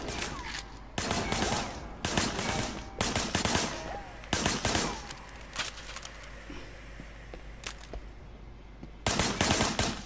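Bursts of gunfire in the Sleeping Dogs video game, several loud volleys of rapid shots separated by short pauses, with a quieter stretch of scattered shots in the middle.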